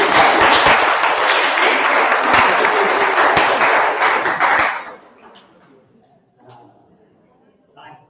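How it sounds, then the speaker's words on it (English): Applause from an audience at a design talk in Milan fills the first five seconds, loud and dense, then fades into near silence with a few faint sounds. "Would you give her a big round of applause?"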